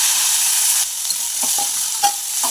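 Ivy gourd (tondli) sizzles and frying in a pan with turmeric and red chilli, stirred by a spatula that scrapes and knocks several times over a steady loud hiss.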